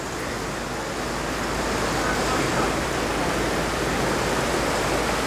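Heavy monsoon-style downpour pouring outdoors, a dense, even roar of rain that holds steady and loud throughout, with gusty wind adding to the wash of noise.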